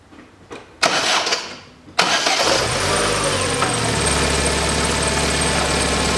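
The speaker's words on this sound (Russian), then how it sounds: "двигатель. Какой-то из ремешков на холодную подсвистывает." A 2011 Chevrolet Cruze 1.8 petrol engine cranks briefly, catches and settles into a steady, loud idle, with a thin belt squeal riding over the running engine while it is still cold.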